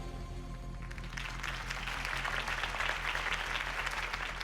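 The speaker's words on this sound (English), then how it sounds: "If only Mr. Wayne, my campaign's largest backer, could have heard that applause" A crowd in Batman: The Telltale Series bursts into steady applause that builds and continues evenly, a dense wash of clapping heard over a low rumbling background hum.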